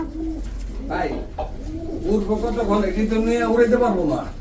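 Pigeons coo in low, throaty bursts close by, while someone talks over them.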